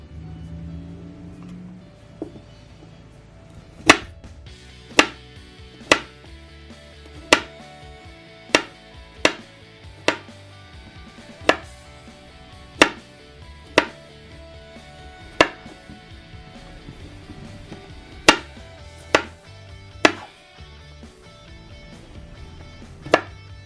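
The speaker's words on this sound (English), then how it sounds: "Now we need 1 garlic clove chopped." A kitchen knife chops a garlic clove on a board, with about fifteen sharp, close taps at an uneven pace over a low background hum.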